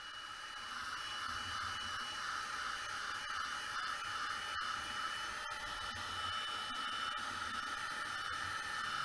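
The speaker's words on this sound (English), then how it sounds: "then a quick blast with a heat gun to get that dry." Heat gun blowing steadily to dry a mixed media tag, a continuous loud airy whoosh and hiss lasting the whole time, with faint small knocks.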